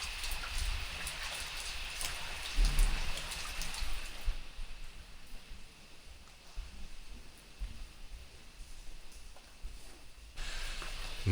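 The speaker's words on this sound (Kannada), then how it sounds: "ಆಗಲೇ ಮಳೆ ಏನೋ ಬರ್ತಿದೆ." Rain falls outside a window overlooking greenery at a traditional courtyard house stay in Madikeri, a soft, steady hiss of drops that swells louder at the start and end, with no voices.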